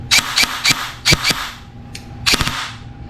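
An airsoft gun fitted with an ETU fires a quick string of sharp, close, loud snapping shots in short bursts, with brief pauses between groups.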